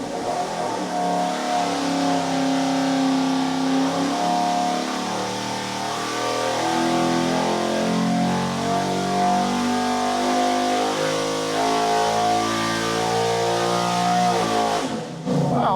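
Small-block Chevy V8 with a stock cast crank, fitted with a carburetor and a 1-inch four-hole tapered spacer, pulling at full power on a dyno: a loud, sustained engine howl climbing in pitch for about fifteen seconds before cutting off.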